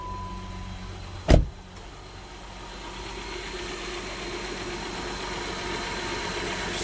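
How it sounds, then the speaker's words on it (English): A car engine idles steadily after a sharp click, a low continuous hum and rumble that grows slightly fuller over several seconds, heard close and alone during a battery tester check. "Alright, so we started our engine."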